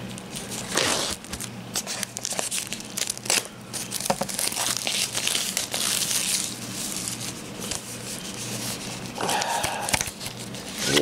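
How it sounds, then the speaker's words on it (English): Plastic packaging around an anime DVD being torn and crumpled open, a close, continuous run of crinkling, crunching and tearing with no talk. "A lot of plastic just to get inside this"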